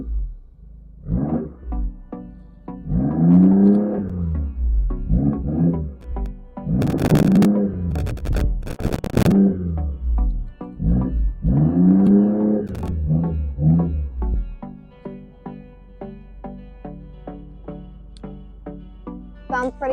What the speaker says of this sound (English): now I'm going to rev the engine so you can hear those revs.